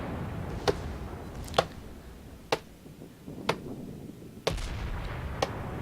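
Ship guns in World of Warships fire at the Svetlana in a slow series of about six sharp, evenly spaced booms over a low rumbling background, with no talk.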